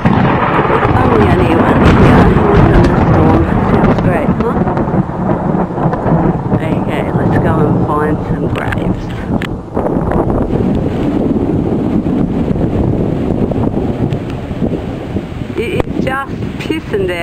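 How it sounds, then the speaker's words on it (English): Heavy rain pours steadily while deep thunder rumbles and rolls, loud and close, with a dense hiss of water throughout. "Pissing down that thunder that you can hear."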